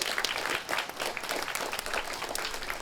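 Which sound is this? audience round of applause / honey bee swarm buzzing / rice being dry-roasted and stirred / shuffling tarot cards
audience round of applause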